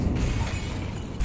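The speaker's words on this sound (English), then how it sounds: "Throwing grenade." A grenade bursts in a Counter-Strike match on Faceit, a brief, loud, crunching blast with a shattering edge that fills the short moment.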